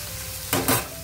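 Paneer cubes with turmeric powder frying and being gently stirred in a pan for dry paneer masala, two close bursts of sizzling and scraping rising over a low steady frying hiss.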